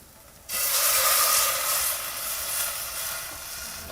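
Hot water hits a hot pan of amti made for puran poli, bursting into a sudden loud hiss that holds strong, then settles into a steady sizzle, with no talking.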